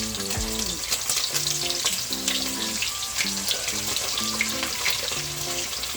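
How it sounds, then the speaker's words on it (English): Chicken wings for fried barbecue wings crackle and sizzle loudly and steadily in a pan of hot oil, with faint tonal sounds running underneath. "so I'm gonna start putting in my wings now guys"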